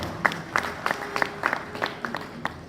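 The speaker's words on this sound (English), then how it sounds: "please give him a round of applause" Audience at a farm symposium applauds a youth council chairman, a modest, fairly faint round of clapping with distinct rhythmic claps standing out over a soft crowd murmur.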